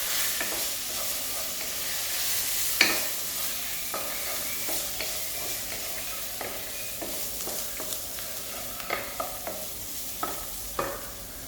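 Fried rice with soy sauce is stirred in a hot pan, a soft steady sizzle broken by repeated sharp scrapes and clinks of the spoon against the pan, close and alone.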